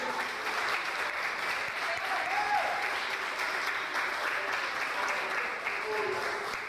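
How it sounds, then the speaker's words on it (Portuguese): A church congregation clapping during an evening sermon, a continuous, even round of applause from a large group, with faint voices mixed in. "Quem crê nisso, dê uma linda salva de palmas para Jesus nessa noite"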